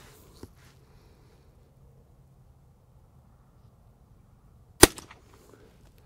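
A single quiet, sharp crack from a .22 LR rifle firing a .22 Short round outdoors, popping like a cap gun, with a faint tick earlier and near silence around it.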